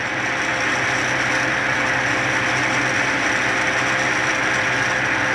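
CNC machine running on 3-phase power at 455 volts, cutting prototype gear cases: a steady, loud, dense mechanical roar with an even broadband hiss that holds unchanged throughout, no talk.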